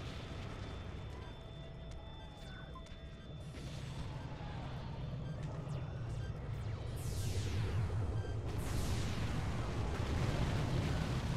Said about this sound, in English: Oh, two airstrikes.